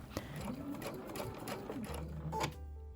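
A sewing machine runs a quarter-inch seam around quilt patches for a table runner, a close, rapid rattling hum of stitching that stops near the end.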